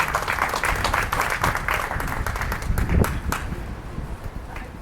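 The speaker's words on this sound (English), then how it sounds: "Big round of applause to Mayor Khairallah" Audience at a Syrian conference applauding Mayor Khairallah, a dense patter of many hands clapping steadily at moderate distance for several seconds.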